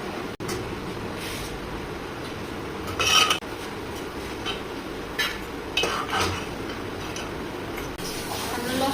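Kheer is stirred in a metal cooking pot, with a low, steady scraping and a few louder clanks of the spoon against the pot, sounding close by.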